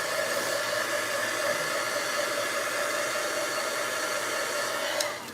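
A hair dryer running steadily while drying a craft project, a close, continuous hissing blow that cuts off near the end, with no talking.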